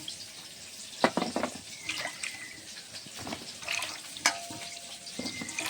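Cut potatoes and taro get washed under a running kitchen tap, water splashing and rushing steadily with irregular clattering handling noises as pieces are rubbed and moved in the bowl.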